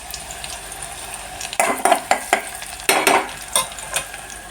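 Something being stirred and fried in a pan until it reddens, in a home kitchen where pumpkin and potato are cooking. A soft sizzle runs underneath, with bursts of scraping and clinking from about 1.6 seconds onward and no talk.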